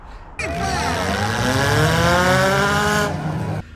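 Toyota Corolla race car with a new header, a loud engine rev climbing and holding in a sweeping wail for about three seconds before cutting off sharply.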